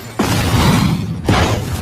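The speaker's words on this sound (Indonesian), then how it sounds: "Kapal itu pun meledak." A ship blowing up as a film sound effect: two heavy booming blasts, each hitting suddenly and rolling on as a dense roar, the second following about a second after the first.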